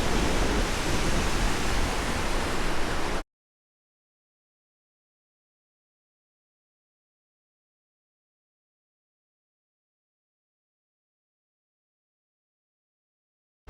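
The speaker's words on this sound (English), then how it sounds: "It's not raining, but it's rainy because of the waterfall." Spray and rushing water close beside a huge waterfall, a loud, dense, hissing roar for about three seconds that then cuts off abruptly into silence.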